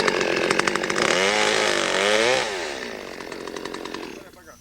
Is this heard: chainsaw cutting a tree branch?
yes